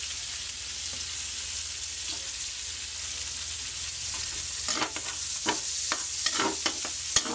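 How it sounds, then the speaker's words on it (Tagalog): Onion and garlic sizzle in a hot pan, with a steady close frying hiss that runs throughout. Scraping stirs grow busier toward the end. "Lagay ang sibuyas at bawang."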